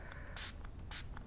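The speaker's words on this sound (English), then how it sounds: "I'm going to spray a little bit of water here" Two quick bursts from a spray bottle misting water onto a section of PMC Flex metal clay at a jewelry-making bench, each a short, close hiss separated by a brief pause.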